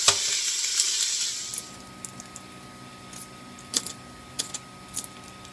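Food sautés in a pan while browning. A loud sizzle fades after about a second and a half, leaving a quieter fry with a few sharp clinks and taps.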